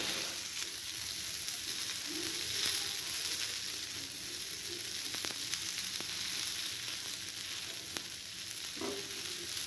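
Dhapate flatbread frying in oil in a pan gives a steady, close sizzle that runs throughout, with faint scraping or stirring touches.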